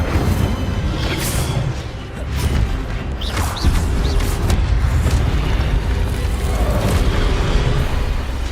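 Incendio fire spell cast in the game Hogwarts Legacy, deep booming whooshes and crackling bursts over a continuous rumbling bed, with a few sharp hits and swells across the clip.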